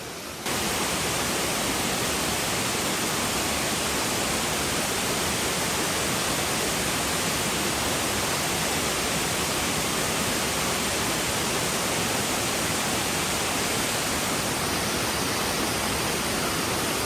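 A waterfall inside a forest, a loud, dense, unbroken roar of rushing water holding steady throughout with no other sounds standing out.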